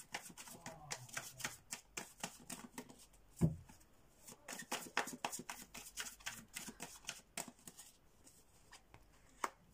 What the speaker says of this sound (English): I'm going to pull out two more cards for you guys, see what's going on.